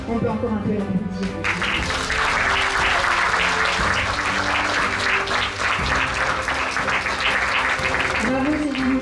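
Audience applause at the Miss Photogénie 2024 pageant, greeting a contestant after an award is announced: sustained, dense clapping that fills the room, with a few words from a host heard at the start and end.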